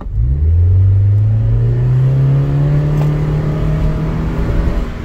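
A car under full throttle on a test drive, its engine note climbing in a loud, close rising whine that holds strong for several seconds before easing slightly.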